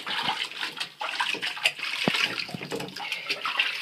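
Water splashes and streams steadily as a monkey is washed under a running shower, a close, continuous wet rush broken by brief splatters.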